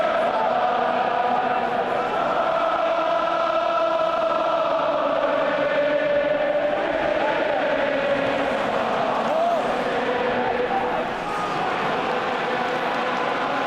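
A large rugby crowd at an Ireland v Wales Six Nations match keeps up a continuous loud roar and chant, with a commentator talking over it.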